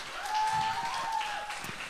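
A crowd applauds a seven-year-old girl at a Latin dance academy show, moderately loud and steady clapping, with a faint sustained tone running underneath.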